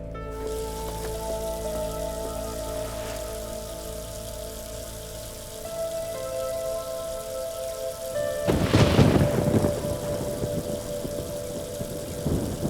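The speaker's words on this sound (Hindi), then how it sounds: "बारिश शुरू होने वाली है।" Thunder rumbling and rain beginning to fall on a surface, steady rain throughout with a loud, close thunderclap breaking in past the middle and rolling on under the downpour.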